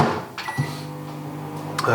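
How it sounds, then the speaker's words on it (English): A microwave oven briefly heats chocolate and glucose, giving a low steady hum that starts after a click or two, with another faint clack near the end. "my chocolate and my glucose, which I'll just quickly microwave for a couple of seconds"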